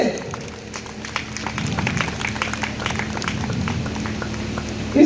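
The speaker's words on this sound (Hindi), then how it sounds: "ताली बजाइए जोर से।" Audience in a church gathering claps steadily for a pastor being introduced, a dense patter of hands mid-level throughout with a low murmur beneath and a louder burst near the end.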